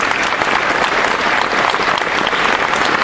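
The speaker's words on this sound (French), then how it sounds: "Je vous demande d'applaudir." A crowd at a Front National political rally in Brive breaks into loud, dense applause, a steady close wash of many clapping hands sustained throughout.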